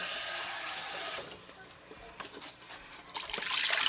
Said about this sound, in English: Add 2 cups of water.